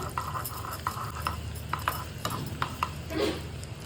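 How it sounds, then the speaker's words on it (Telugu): Chopped fresh coconut pieces roast lightly in ghee in a pan for bellam paramannam, a spoon scraping and clinking against the metal in a steady stirring rhythm, close and moderately loud, with a faint sizzle underneath. "చిన్నగా కట్ చేసుకున్న పచ్చ కొబ్బరి ముక్కలు, ఇది లైట్గా రోస్ట్ అవ్వాలి."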